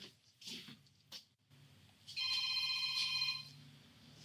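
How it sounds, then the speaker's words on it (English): A telephone rings once with a bright electronic trill lasting over a second, preceded by brief soft rustling and tapping sounds in a quiet room. "The phone is ringing."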